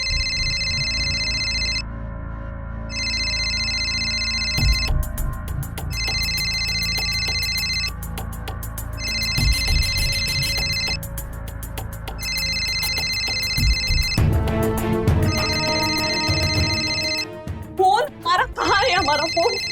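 A telephone rings repeatedly in a bright, steady electronic pattern with short gaps, heard in a domestic comedy scene under background music and people talking.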